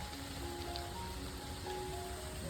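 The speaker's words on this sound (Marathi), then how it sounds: "हे बघा खूप पाऊस पडतो" Heavy rain falling steadily outdoors in a village, a dense continuous patter of drops on surfaces with faint tonal hum in the background and no talk.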